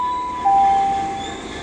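Class 66 diesel freight locomotive passing at Westbury, a short stretch of even rail rumble with a faint high tonal whine and a slight swell in loudness midway.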